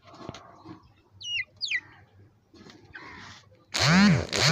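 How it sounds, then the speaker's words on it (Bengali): Golden Sebright chicks in a cage setup give a few short, high chirps, followed by one loud, ringing call near the end. "এটা হচ্ছে গোল্ডেন সেভরাইট মুরগির বাচ্চা।"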